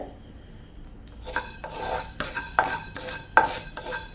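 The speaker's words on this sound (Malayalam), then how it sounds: "നമ്മുടെ മല്ലി ഇവിടെ മൂപ്പായിട്ടുണ്ട് മല്ലി പൊട്ടുന്നുണ്ട്" Coriander seeds dry roasting in a pan for homemade rasam powder, with scraping and stirring against the pan and a few small crackles and clinks building up, close and moderately loud, no talk.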